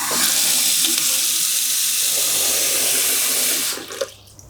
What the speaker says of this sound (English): I've plugged the sink and I'm just going to fill it with a little bit of water